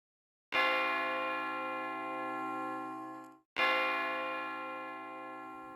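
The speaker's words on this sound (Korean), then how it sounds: "교회의 종소리가 울려 퍼졌어요." A church bell rings out twice, each strike a loud, rich metallic clang with a long humming tone that slowly fades, the second following about three seconds after the first.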